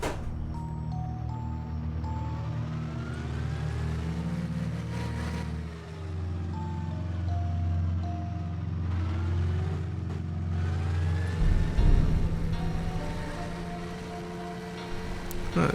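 A tank's engine runs in a vehicle-building video game, a steady droning hum that shifts pitch several times as it revs and settles, with a brief rougher burst near the end.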